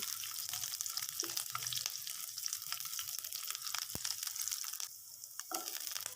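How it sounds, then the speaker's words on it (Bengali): Peeled garlic frying in oil in a pan, a soft continuous sizzle with faint scrapes and a sharp clink, fairly quiet and alone. "রসুন থেকে খুব ভালো একটা ফ্লেভার আসা পর্যন্ত ভেজে নিচ্ছি"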